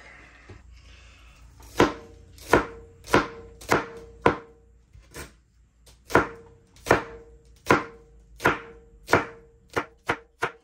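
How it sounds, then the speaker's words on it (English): A knife chops roots off mustard greens on a cutting board, about fourteen sharp, close thuds in an uneven rhythm, quicker and lighter toward the end. "So I'll cut off a lot of these roots."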